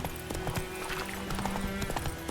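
Horse hooves clip-clop steadily at a trotting rhythm in The Witcher 3 video game, close and clear over a soft in-game ambience, with no talk.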